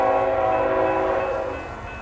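An eastbound loaded coal freight train passes at Montour, Iowa. A loud, steady horn blast rings out over the low rumble of the rolling train and fades slightly toward the end.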